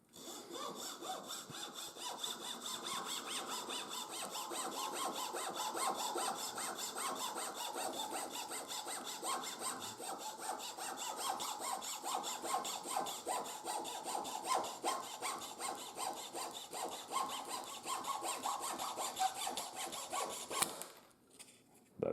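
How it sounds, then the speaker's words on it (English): A hand saw trimming the wooden axles of a small wooden steam engine model, steady rapid back-and-forth rasping strokes close up for about twenty seconds, then stopping abruptly, with no talking. "now we're going to trim the axles on both sides"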